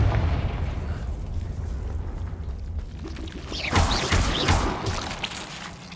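A Confringo fire spell from the video game Hogwarts Legacy detonates with a loud, broad explosive burst, then crackling debris trails off over a low rumbling game backdrop.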